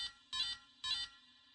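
A phone alarm sounds in two short, bright electronic bursts about half a second apart, then stops; fairly faint and close, with no voices.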